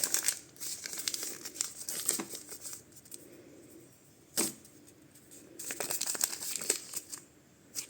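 A baking powder sachet is torn open in a home kitchen, giving bursts of close, crisp paper crinkling and tearing separated by quiet pauses.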